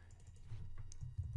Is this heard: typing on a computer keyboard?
yes